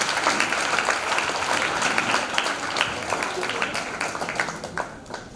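Audience applause at an event where staff and officials are thanked, a steady wash of many hands clapping close and fairly loud throughout, with no voices standing out.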